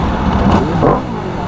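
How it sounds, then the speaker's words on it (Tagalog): An Aprilia RSV motorcycle fitted with an Akrapovic exhaust gives a short, close rev, a quick rising engine blip that peaks and falls back to idle within a second or so. "Sir, pwede Rev natin no. RSV Akrapovic exhaust."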